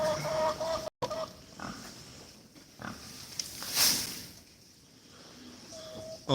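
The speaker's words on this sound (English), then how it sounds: "There's a chicken here, look." A chicken on a farm clucks faintly amid quiet barnyard ambience, with scattered soft animal noises and brief handling sounds near and far.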